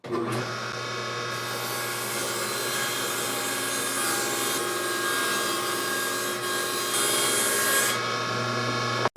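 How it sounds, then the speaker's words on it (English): A table saw rips the edge off a wooden stile, the blade's steady high whine turning into a loud sustained cutting roar for several seconds before dropping back to the idling motor hum. "I'm going to cut off the other edge, cleaning it up the rest of the way."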